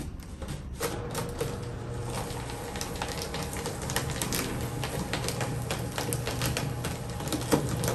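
A True Red 20-sheet shredder chews through eleven sheets of 32-pound paper at once, producing a steady grinding motor drone with rapid crunching, ticking texture throughout, fairly quiet and close.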